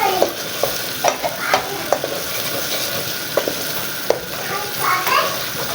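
Onions fry and sizzle steadily in a pan for dal while a spoon stirs them, with scattered scraping clinks over the continuous hiss.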